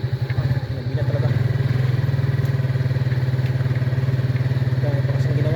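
Steady motorcycle engine putter close by on a slippery, muddy road at night, rhythmic and continuous with faint rattles.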